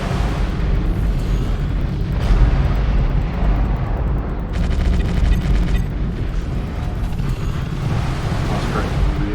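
Artillery explosions in the mech combat game Mechwarrior Living Legends, deep rumbling booms and blasts layered over a constant roar, several bursts of crackling impact, with a voice talking over parts of it.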